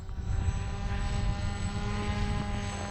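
A remote-control combat wing plane cut from pink insulation foam flies with a continuous buzzing electric propeller drone, steady and fairly close, with no one speaking over it.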